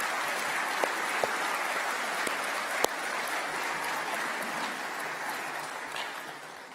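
Sustained applause from a large graduation audience in a ceremony hall, a steady dense wash of clapping with a few sharper individual claps standing out, continuing evenly and easing slightly at the end.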